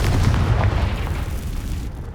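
A Confringo blasting spell explodes in the Hogwarts Legacy video game, giving a heavy, low, rumbling blast that stays loud and dense for about two seconds before easing slightly.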